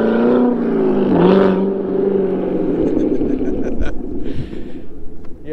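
A Chevrolet C7 Corvette Grand Sport with an AWE exhaust launches from a stop, its engine roaring loud and close as it revs up, then trailing into lighter, choppy exhaust bursts as the car pulls away.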